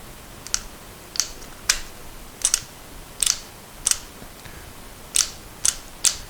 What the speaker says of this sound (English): we're hearing both the high and low beam relays clicking